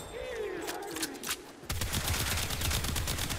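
An Astilla Prime shotgun fires rapidly in Warframe, a dense, loud run of blasts and impacts taking over partway through, with game sounds and a voice earlier.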